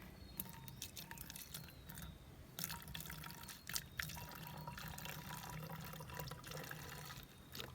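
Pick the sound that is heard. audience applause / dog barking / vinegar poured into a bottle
vinegar poured into a bottle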